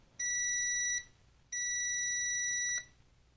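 Two steady electronic beeps from a multimeter on continuity test while probing a DualSense BDM-020 controller board, each tone lasting under a second with a short gap between, clear and close with no talk.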